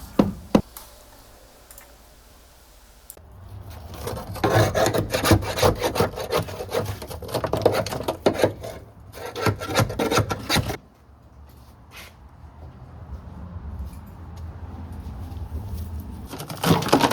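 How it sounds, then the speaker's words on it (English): A chisel scrapes and chips dry-ice-hardened sound deadening off the metal body of a 1978 Mazda Cosmo, giving dense rasping and crackling bursts with a few sharp knocks and quieter pauses between. "you can hit it with a hammer and use a chisel"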